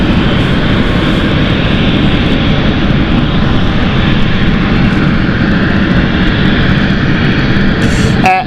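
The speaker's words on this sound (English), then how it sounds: "Our last departure of the day here at City Airport. Wow, that is loud." A jet aircraft takes off from runway 09 at London City Airport with a loud, steady, close roar that holds unbroken throughout, with no talk over it.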